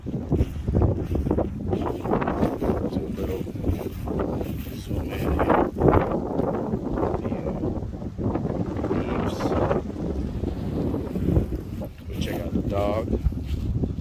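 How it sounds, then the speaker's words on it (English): Strong wind buffets a Samsung Galaxy S21 Ultra's microphone in heavy, roaring gusts while someone talks over it outdoors. "Very windy. You hear that wind, that's what it is."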